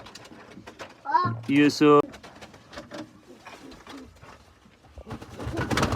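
Pigeons coo up close in a few throaty, warbling bursts, with a voice and other talk around them amid background noise.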